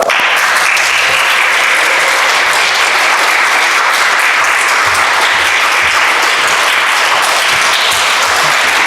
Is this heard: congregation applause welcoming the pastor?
yes